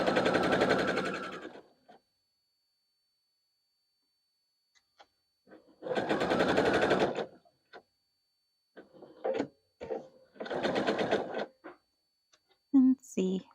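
A sewing machine stitches quilt fabric in three fast, buzzing bursts of a few seconds each, separated by quiet gaps. Someone talks briefly near the end.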